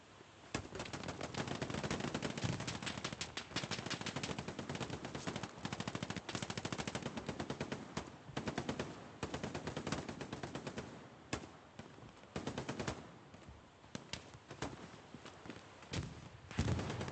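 Machine-gun fire rattles in rapid, sustained bursts in the World War II shooter Hell Let Loose on the Omaha Beach map, the bursts broken by brief gaps and growing more sporadic toward the end.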